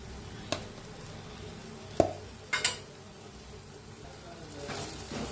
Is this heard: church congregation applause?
no